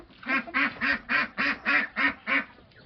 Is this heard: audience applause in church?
no